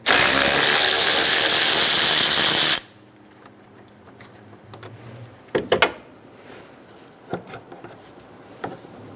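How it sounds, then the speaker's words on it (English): Tool working a 10mm bolt on the cooling hose bracket of a 2011-2014 Hyundai Sonata 2.4L during radiator replacement: a loud continuous whir for about three seconds, then quiet with a few scattered clicks and clunks of handling. "Remove the 10mm bolt for the cooling hose bracket."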